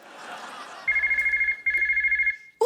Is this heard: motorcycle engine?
no